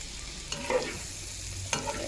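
Sliced sponge gourd frying and being stirred in a pan, a steady soft sizzle with a few light scrapes and clinks of the utensil.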